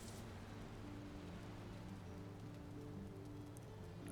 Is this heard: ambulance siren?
no